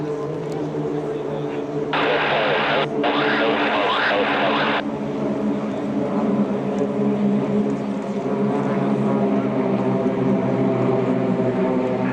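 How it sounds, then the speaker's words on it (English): Large formation of warbird airplanes passes overhead at an air show, a continuous deep propeller drone with a louder surge in the middle that briefly cuts out, under radio chatter and nearby voices. "Sounds of freedom as these large groups pass over."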